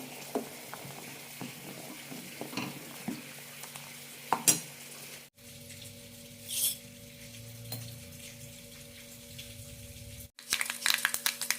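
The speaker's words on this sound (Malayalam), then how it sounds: "കടുക് പൊട്ടാൻ തുടങ്ങുമ്പോൾ ഉലുവ ഇടാം" Mustard seeds splutter and pop in hot oil in a pan while tempering for a ripe-banana buttermilk curry, with sizzling, scattered crackles and a few stirring clinks, close and fairly quiet.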